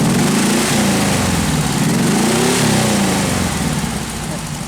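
A 1776 engine revs loudly during camshaft break-in, its rough mid-range roar rising and falling in pitch as the throttle is opened, close and steady throughout.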